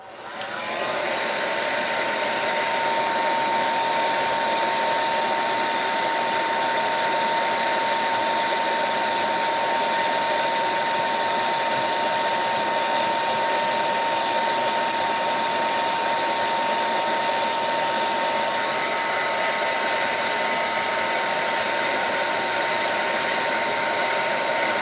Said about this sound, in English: I'm going to use my blow dryer.